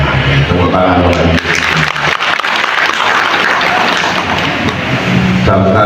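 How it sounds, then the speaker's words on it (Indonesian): Applause breaks out at the inauguration of a fire brigade headquarters building and bridges in Klaten, a dense crowd clapping loudly for most of the span, with speech over the start and end. "Tepuk tangan buat"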